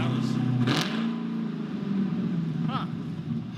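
Car engine revving with no exhaust fitted, a low rough drone with a quick rise in pitch and a couple of sharp revs over a raw rumbling idle, fairly close.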